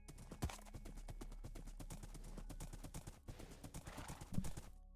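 Steady clip-clop of horse hooves in Minecraft while riding at a fast pace, a quick continuous rhythm of hoofbeats with an occasional whinny, fairly loud and with no talk over it.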